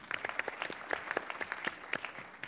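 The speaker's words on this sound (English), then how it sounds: "you should all give yourselves a big round of applause for being here tonight" Scattered hand claps from an audience at a closing talk on Islam and Muslims in America, quick and uneven, moderately near, with no voices over them.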